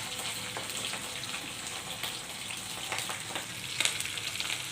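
Green chilies, curry leaves and sliced garlic sizzle in hot oil for an amaranth-style bhaji, giving a dense, continuous close hiss with scattered crackles and a brief louder spatter near the end.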